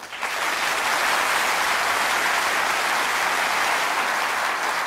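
A studio audience on the Jeopardy quiz show applauds the Watson computer's debut, with sustained, even clapping that swells quickly and holds at a steady level for several seconds.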